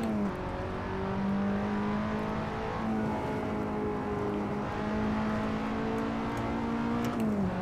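A race car engine in a sim racing game on the Nordschleife, droning steadily under braking and cornering, the pitch stepping down and holding before climbing again near the end, with no one talking.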